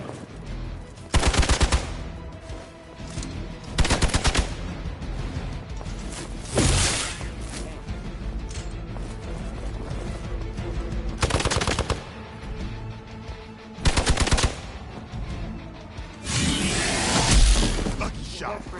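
Gunfire rattles in Marvel Midnight Suns, repeated loud bursts of automatic fire spaced a few seconds apart, with a voice talking between and over the shots.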